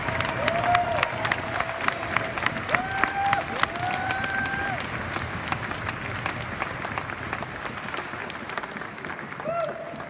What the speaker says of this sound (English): I want big applause.